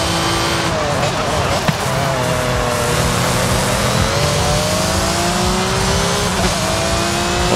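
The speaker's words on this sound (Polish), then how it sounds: "Ja teraz się ścigam Lambo Huracanem." Lamborghini Huracan engine in Forza Horizon 5, a loud continuous race engine drone with rising and shifting revs and occasional tire noise, constant throughout under a talking voice.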